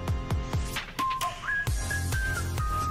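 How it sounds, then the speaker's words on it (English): A clear whistled melody rides over a bouncy pop beat in a K-pop song, its bright, pure notes sliding and holding above steady drum hits. "we get the whistle sound"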